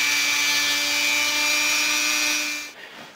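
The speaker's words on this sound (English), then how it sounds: "turn this on and" A power drill whines at a steady high pitch for a few seconds while drilling through plastic, then winds down and stops.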